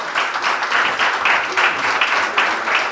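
A church congregation applauds during a Spanish-language morning service, a steady, dense round of hand clapping that carries on evenly throughout with no talk over it.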